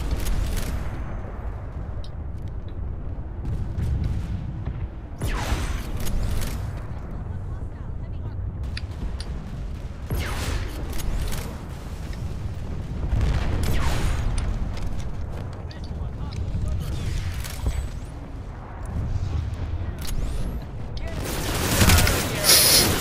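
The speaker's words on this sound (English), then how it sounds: "I'm gonna shoot you all." Gunfire in the shooter game Planetside 2 rattles in dense bursts with booms and mechanical clatter, steady and loud throughout, while someone talks over it.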